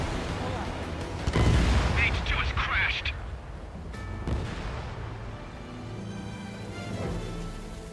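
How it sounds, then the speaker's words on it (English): A missile fires in the jet combat game Ace Combat 7: Skies Unknown, with a sharp, loud whoosh and boom early on, followed by fainter rumbling engine noise while radio voices talk. "Missile launched."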